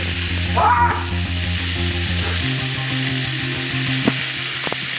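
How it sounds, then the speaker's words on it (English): Meat sizzles steadily in a hot pan while a spatula scrapes and flips the pieces, a brief clatter near the start and sharp taps later over a continuous loud fry. "Just keep flipping the meat around, and when you see them as a gold and brownish color"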